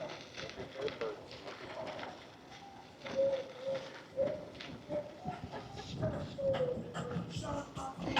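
Pigeons or doves coo repeatedly nearby during an electric bike ride near a beach at Honeymoon Island State Park, mixed with rolling and rustling noise and faint background voices.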